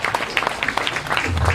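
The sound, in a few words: audience applause at a Balinese comedy show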